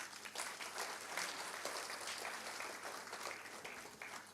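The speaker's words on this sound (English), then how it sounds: "all the teachers sitting in this room deserve a round of applause." An auditorium audience at an English teachers' conference applauds the teachers, giving a steady, dense wash of clapping that stays fairly faint and distant throughout.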